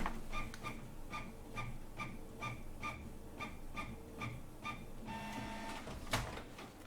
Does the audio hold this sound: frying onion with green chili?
no